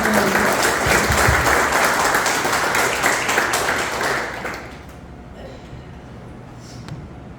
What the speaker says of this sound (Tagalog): Isang malakas na palakpak naman po sa ating Diyos na Panginoon.